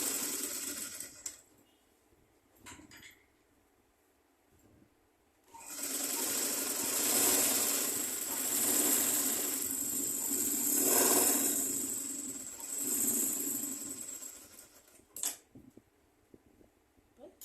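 A sewing machine runs in a long steady burst while folding and stitching a diamond-shaped neckline, preceded by brief handling noises and short starts, then stopping with a few clicks.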